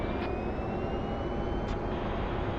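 A formation aircraft on a memorial flyover makes a high-speed pass, a loud continuous engine roar that fills the whole moment with a slowly shifting pitch.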